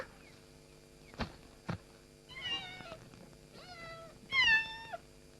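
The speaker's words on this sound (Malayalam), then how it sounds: "എന്റെ കുഞ്ഞു പൂച്ചേനും കുഞ്ഞുങ്ങളെയും കാണണോ?" A cat and her kittens meow in several short, near cries, with a couple of light knocks early on, in a quiet indoor setting.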